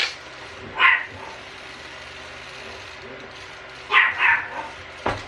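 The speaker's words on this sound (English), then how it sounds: "Dog's barking, that means time's over." A dog barks in short bursts a few metres off in a workshop where a rock crawler buggy is being worked on, one yip early, then a quick double bark and a final sharp bark over low background hum.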